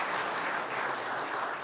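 An audience at a piano concert in a United Methodist church applauds steadily, a dense wash of many hands clapping that fills the whole stretch at an even level.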